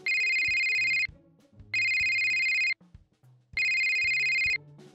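A telephone rings in three long, loud electronic bursts separated by short pauses, a steady ringtone repeating on a call to egg farmers during a children's theatre performance.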